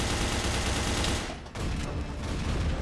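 Gunfire from the video game FEAR Online comes as dense, loud bursts that nearly fill the clip, briefly dipping midway before resuming.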